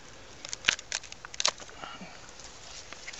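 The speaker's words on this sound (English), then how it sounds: "So you're trying to cut the center strands." Date palm flower strands being cut with shears during pollination, a handful of quick, close snips and crisp clicks clustered in the first second and a half, then faint rustling over quiet background.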